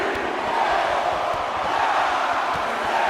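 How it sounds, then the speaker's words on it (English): A video game crowd at an AEW wrestling match keeps up a dense, loud, continuous roar of voices, chanting along in unison with no pauses. "Crowd counting along."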